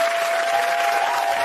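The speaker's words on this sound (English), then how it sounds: "Round of applause." Studio audience applause on a daytime talk show, a dense, steady wash of many hands clapping at close range, loud and continuous with no voices standing out.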